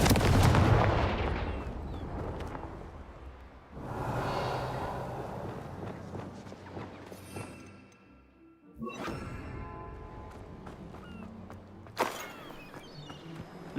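A Confringo blasting spell in the wizarding game Hogwarts Legacy, several sharp explosive blasts with fiery crackle and rumbling decay, spaced a few seconds apart, moderately loud.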